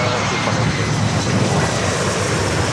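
A jet airliner roars loud and steady on its takeoff roll from runway 24 left at LAX, a broad continuous rumble with no voices.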